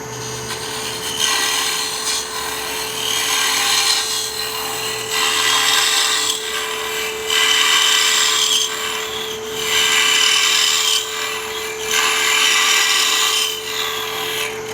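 A woodturning tool cuts the inside of a hollowed Christmas ornament on a lathe, a close, loud rasping scrape in repeated strokes of about two seconds over a steady motor hum, with no talking.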